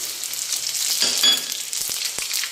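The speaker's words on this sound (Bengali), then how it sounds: "রসুন, আস্ত রসুনের কোয়াগুলো আমরা তেলের মধ্যে দিয়ে দিলাম" Whole garlic cloves and panch phoron spices sizzle in hot oil for olive pickle, a bright crackling hiss with a sharper burst of spatter partway through and a few soft clicks.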